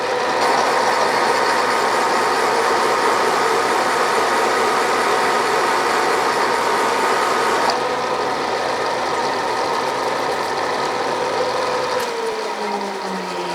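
Counterbore cutting a cast iron part for a wood vise on a machine, a steady loud grinding, chattering drone with a rhythmic mechanical clatter throughout, dropping away near the end as the cut stops.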